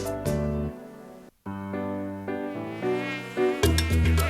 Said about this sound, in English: It was a mosquito.